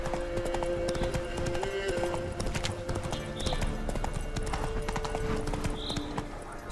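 Hooves clip-clop steadily and close in The Witcher 3: Wild Hunt, a rhythmic clatter over game ambience and music with an occasional distant whinny.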